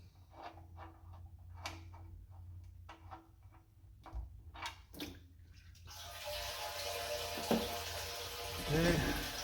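Oil gushing from the side pan drain plug of a Ford C6 transmission on a 1979 Lincoln Continental Town Car, starting after some clicks and clanks as a steady, close splashing pour.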